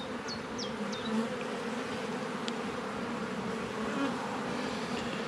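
Honeybees drone steadily around an open hive during a spring inspection, a dense continuous buzz close by, with a few faint high chirps over it and no talk.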